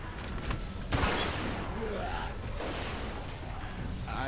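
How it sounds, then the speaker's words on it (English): A shotgun fires once in The Walking Dead game, a sharp close blast followed by a brief rumbling tail, set against a noisy background with faint earlier clatter. "Maybe I can shoot him."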